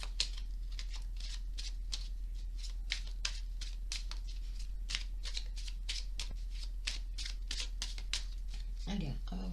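Cards being shuffled for a tarot reading, a rapid run of crisp papery riffles and flicks repeating steadily close by, with quiet background hum and a voice briefly heard near the end.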